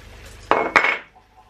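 Spoon knocking twice against a pot while masala with tomato is stirred, two sharp metallic clinks close together over faint background, no talk.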